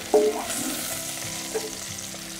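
Oil sizzles in a pan for roselle flower chutney, a short, close steady frying hiss with a couple of soft knocks.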